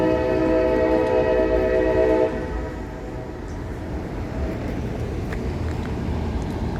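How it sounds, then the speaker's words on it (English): An old street-running train passes along tracks laid in a roadway, starting with a loud sustained horn blast that cuts off after about two seconds, leaving a heavy, close rumble of wheels and cars rolling by. "we've got the street runner coming down right now"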